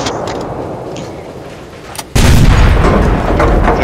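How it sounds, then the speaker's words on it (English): Gunfire in the online battle game Cuisine Royale: a loud, sudden blast cuts in about halfway through and then fills the rest of the clip with dense, booming noise, following a quieter stretch of background game sound. "Please shoot that gun one more time."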